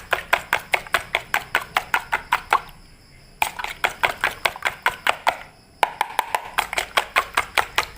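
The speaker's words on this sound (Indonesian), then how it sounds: "Dan langsung kita aduk lagi." Fish bait mixture stirred by hand, steady rhythmic knocks and scrapes against the container at roughly two per second, close and fairly loud, with two short pauses.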